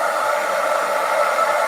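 A hair dryer blasts air to dry paint on a surface in an art studio, giving a steady, close, unbroken whooshing whir with no talk over it.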